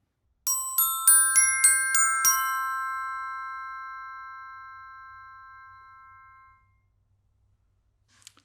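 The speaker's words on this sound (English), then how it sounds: "Here's an example of what an aluminum mallet sounds like on the Glockenspiel." Bright metallic strikes on glockenspiel bars with an aluminum mallet, about seven quick notes in a short run, then a long ringing decay fading over several seconds.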